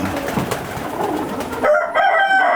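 Pigeons coo at close range inside a racing pigeon loft housing about 200 birds, a steady, continuous murmur of overlapping coos with brief sharper calls near the end.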